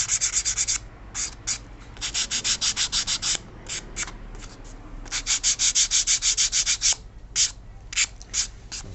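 Hand sanding of small model aircraft parts for a MicronWings Mini Delta build, a dry scratchy rubbing in bursts of quick back-and-forth strokes, close and steady with brief pauses between passes.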